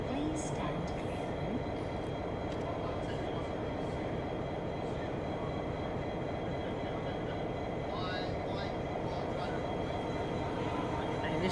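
A train rumbles steadily at Strathfield station, a continuous dense roar of wheels and motors that holds for the whole stretch with faint higher squeals near the end.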